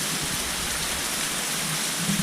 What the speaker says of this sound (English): This seems like a gentle thunderstorm / rainstorm though